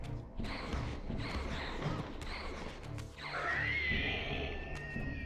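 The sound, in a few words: enemy squealing in the video game Soul Reaver 2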